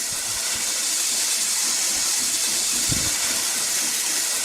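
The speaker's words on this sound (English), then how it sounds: "That seems the train is pretty loud, and because of the steam that they just maximized the volume" Mallard steam locomotive in the RO-Scale Sandbox game, giving off a loud, continuous hiss of steam with a steady rolling train rumble beneath it and one brief low thud.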